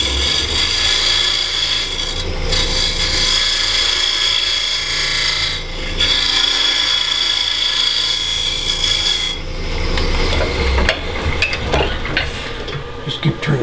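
A wood lathe turns a maple burl box while a tool scrapes the spinning wood, giving a continuous loud rasping, hissing cut that shifts in tone and briefly drops as the work eases off.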